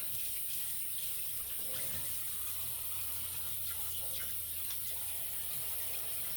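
Tap water runs steadily into a sink to wet the head of a shaving brush, a soft, continuous hiss-like flow heard faintly throughout with no talking.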